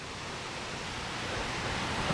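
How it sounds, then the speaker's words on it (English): A waterfall beside a former railroad bridge gives a steady, faint, broadband rush of falling water, continuous and unbroken with no voices over it. "there's a waterfall right there on that side"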